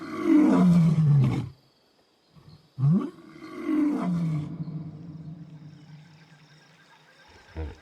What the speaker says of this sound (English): The night sky is once again filled with the sound of lion.